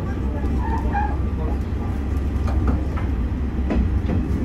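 A train on Japan's Yamaguchi Line runs through Shinome station, a continuous rolling rumble with faint rail clatter heard from on board.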